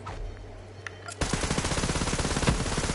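Rapid automatic gunfire from the video game Borderlands 3 bursts in after a quieter opening stretch, then rattles on as a dense, loud, continuous string of shots.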